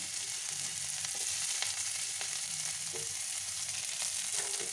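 Onions and chillies hit hot oil left from frying peanuts for semolina upma and crackle with a dense, even sizzle close by, broken by faint stirring taps.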